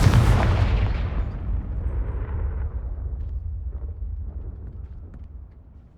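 Confringo blasting spell explosion in the Hogwarts Legacy video game, a loud booming blast at the start that rumbles and slowly decays over several seconds with no talk.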